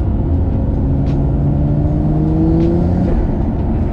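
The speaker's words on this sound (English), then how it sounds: "turbos are tiny, so they spool up quick" A Nissan Skyline R34 GT-R with a twin-plate clutch pulls hard from inside the cabin, its engine drone rising steadily in pitch as the small turbos spool, with a couple of faint chirps over the loud, continuous roar.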